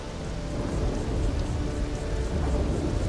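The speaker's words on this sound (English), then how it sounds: "I hear rain, but I don't see rain." Steady rain falls throughout a scene in the video game Starfield, a dense, even hiss with low rumbling underneath and no talk over it.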